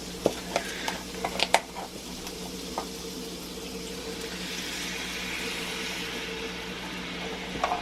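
Beef stock hitting a hot cast iron pan for steak tacos, giving a low, steady sizzle and bubbling hiss with a few sharp crackles and pops early on, close and fairly quiet, with no talking.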